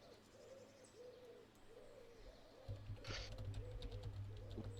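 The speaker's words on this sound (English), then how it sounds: "Turn off the owl sounds." Soft repeating owl hoots in a fantasy Underdark-style ambience track, evenly spaced low calls over a steady background hum, with a few faint clicks and a brief rustle partway through.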